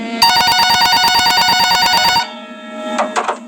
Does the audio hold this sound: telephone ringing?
yes